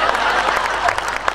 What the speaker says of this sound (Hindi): अब तुम भी कुछ ताली बजाओ